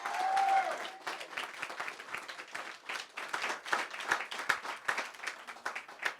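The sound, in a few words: audience clapping loudly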